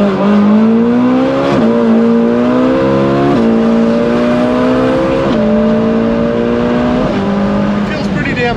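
A cheap, high-mileage Ferrari 458 engine runs loud and close, revving up in repeated rising pulls that drop back between blips, with someone talking over it.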